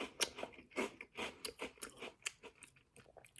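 Close, crisp crunching and chewing of a Frosted Flakes glazed donut, a quick run of sharp crackling bites spaced irregularly and fading slightly toward the end, with no talking.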